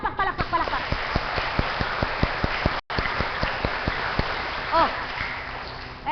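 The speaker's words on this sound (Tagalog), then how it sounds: "O sige nga po, palakpak, palakpak" Rhythmic hand clapping from a church congregation, a steady run of sharp claps about three per second with a short break midway, while voices speak and call out over the beat.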